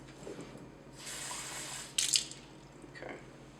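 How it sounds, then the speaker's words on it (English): Ordinary tap water is poured into a 50 millilitre graduated cylinder, giving a soft, brief hissing pour and then a sharper splashing burst, close and fairly quiet, with faint drips after it. "So I'm going to put 50 milliliters of just ordinary tap water right in here."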